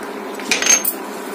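A spoon clinks and scrapes briefly against a pot while kheer, a milk pudding with sugar and cardamom, is stirred; a short burst of metallic contact over quiet background.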